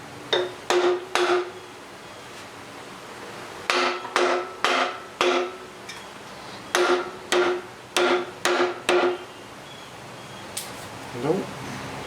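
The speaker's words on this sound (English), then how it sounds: "No go. Bigger hammer." A bigger hammer strikes a Buick 455 engine's cylinder head during removal, three bursts of rapid ringing metallic blows separated by pauses, close and loud.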